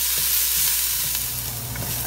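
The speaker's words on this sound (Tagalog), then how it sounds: "At kapag nagisa na po natin itong ating mga sibuyas, bawang at luya po" Chopped onions, garlic and ginger sauté in a pan, making a loud, steady sizzle with occasional scraping stir sounds close by and no voices.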